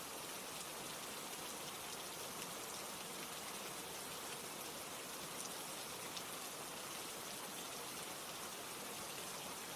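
Steady, dense rain falling on surfaces, an even hiss with no breaks for the full length and no voices.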